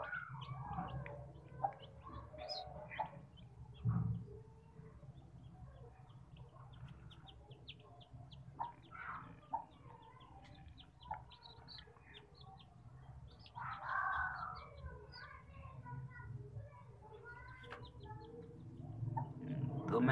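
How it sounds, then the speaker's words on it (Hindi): Newly hatched Aseel chicks, a home-bred brood of eight, chirp and peep in high thin bursts, with soft clucks and occasional wing flutters close by; a few faint voices are heard in the background. "ये देखें 8 बच्चे निकल चुके हैं"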